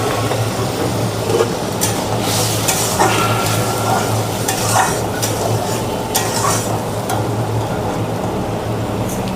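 Water hits turmeric and spices frying in a pan, giving a busy sizzle with scraping, clinking stirs against the metal over a low steady hum.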